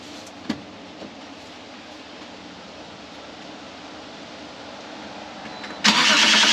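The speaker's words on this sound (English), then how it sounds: "then we're going to start the vehicle." A BMW engine starting at the end after a long quiet stretch with a faint click near the start; the engine catches loudly and runs steadily for the final moment, with no talk.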